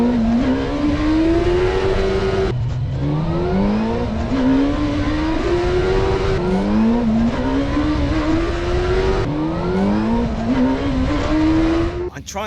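A motorcycle engine revs up in three repeated rising sweeps, each pull climbing in pitch before dropping off, during wheelie practice; loud, close and continuous.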